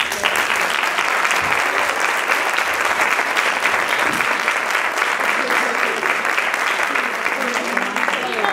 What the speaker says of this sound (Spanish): pedimos un fuerte aplauso para ellos.